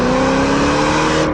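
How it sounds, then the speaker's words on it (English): A 2010 Ford Shelby GT500 accelerating hard, a loud, close engine roar that climbs steadily in pitch and drops away slightly at the very end as it shifts gear. "I can't help but light the tires up every time I shift"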